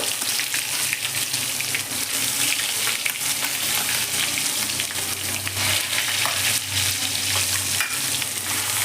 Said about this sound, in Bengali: আমি রসুনটা ভেজে নিচ্ছি কারণ তেলটা খুব গরম হয়ে গেছে